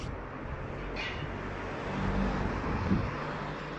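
A car passes by outdoors, a faint, low road rumble that swells gently toward the middle and end, set under a steady background hiss with no speech.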